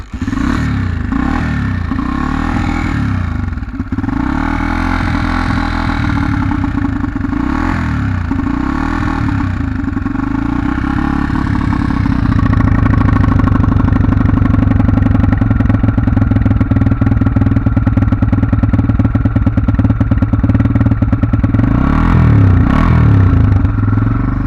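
Honda XR250R dirt bike engine running on choke, a loud close single-cylinder clatter that rises and falls with blips before settling into a steady, busier idle, with no talking.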